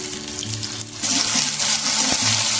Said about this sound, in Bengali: এবার আমি দিয়ে দেব কেটে রাখা পেঁয়াজ।